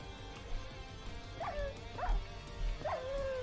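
Minecraft dogs yip and whimper three times at moderate distance over a busy game background, each cry a short rising-falling whine.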